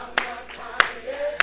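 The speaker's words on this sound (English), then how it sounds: "Clap your hand" A church congregation claps hands in time with gospel singing, three sharp claps spaced evenly about 0.6 seconds apart over a soft sustained background of voices and music.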